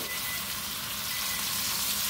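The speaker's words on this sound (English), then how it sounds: "you need to just saute those onions up" Onions sautéing with salt in a pan give off a steady, close, even sizzle that holds without a break.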